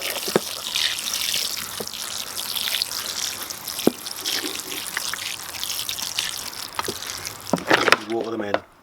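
Water trickles and splashes as planted sweetcorn seed modules in compost are watered in, with a steady hiss and a few sharp drips, ending in a short burst of talking.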